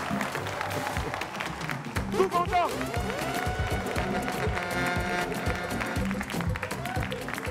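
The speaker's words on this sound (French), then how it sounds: "Je vous demande de faire un tonnerre d'applaudissements" Stage audience applauding and cheering to welcome a comedian at a live comedy show, a loud, busy clatter of clapping mixed with crowd noise and a voice talking over it.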